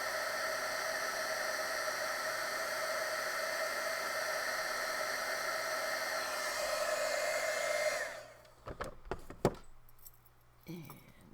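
A heat tool blows steadily on embossing powder during junk journal jewelry making, a loud continuous whirring hiss that cuts off at about eight seconds, followed by brief clicks and taps of handling.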